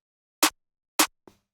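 Trap drum pattern built in FL Studio with an offbeat bounce: two sharp, bright percussive hits spaced about half a second apart, then a softer, quieter third hit just after, dry and alone with no talk.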